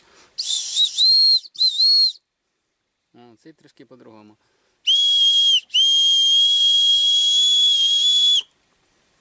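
A shrill handmade willow bark whistle blown in several bursts, two short then two long, loud and close, with a brief spoken remark between them.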